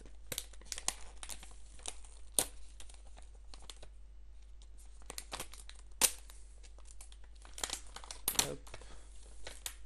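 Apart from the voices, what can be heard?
tearing open a Pokémon card booster pack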